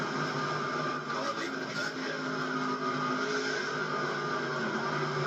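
A race car engine drones steadily and evenly, coasting into the pit lane during a stock car race in a racing video game, with the sound held at an unbroken, fairly loud level throughout.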